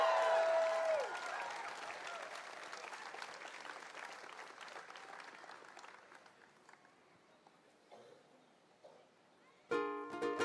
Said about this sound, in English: When you make applause for the keiki, you gotta do it really big.